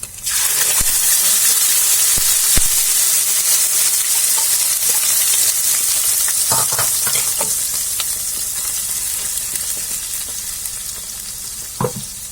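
Tomato and onion puree frying in a pan for paneer masala, a steady loud sizzle and hiss throughout, easing slightly toward the end, with a few soft stirring scrapes and clinks.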